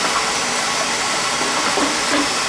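A Beckett oil burner fitted with a new nozzle runs close by with a steady, dense roaring hiss, even and unbroken throughout.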